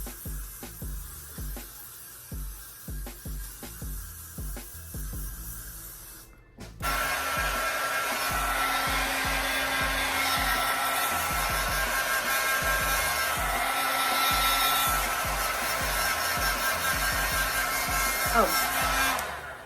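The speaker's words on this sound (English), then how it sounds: "my blow dryer has a cool, so that's why I'm able to hold it as close as I can" A blow dryer blasting air on a wig after some rhythmic tapping and handling, switching on abruptly into a continuous loud whooshing hiss that runs to the end.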